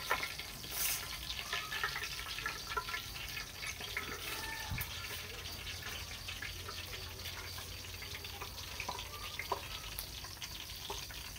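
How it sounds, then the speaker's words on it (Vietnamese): Vegetarian goat meat and vegetarian ham fry in a pan with a steady, crackling sizzle that holds evenly throughout, close by and with no talking. "Và tiếp tục mình sẽ chiên tiếp, sơ chế tiếp dê với hem."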